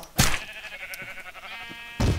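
Bleating sheep in a multiplayer video game, with a couple of loud, bright bleats near the start and end over a steady game background, without speech.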